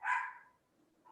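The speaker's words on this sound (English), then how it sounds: "Sorry, that's my dog." A pet dog indoors at home lets out a single short bark, moderately close but fairly faint, followed by near-silence and a hint of another sound starting at the end.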